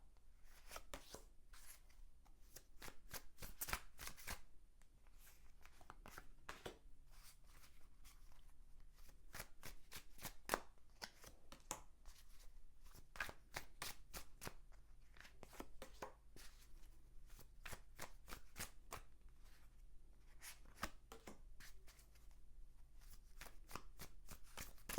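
A deck of tarot cards is shuffled by hand with rapid, crisp riffles and flicks coming in bursts, close and quiet, with no talking over it.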